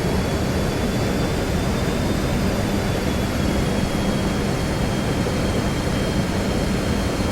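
A MiG-29 jet engine held at 80% RPM in the DCS World flight simulator, a steady dense roar with a thin high whine running unchanged and loud throughout, with no voices.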